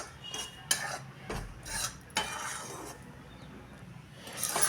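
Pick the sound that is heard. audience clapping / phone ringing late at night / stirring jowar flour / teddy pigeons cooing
stirring jowar flour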